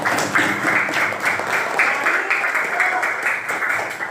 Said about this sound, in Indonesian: Tepuk tangan buat Tias dan teman-teman